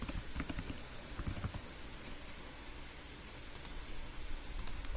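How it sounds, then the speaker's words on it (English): Computer keyboard keys tapped in short bursts while entering names into design software for table place cards, close and fairly quiet, with soft clicks and a steady faint background hum. "I am going to click on the letter A for my text and type Shelly, Daryl,"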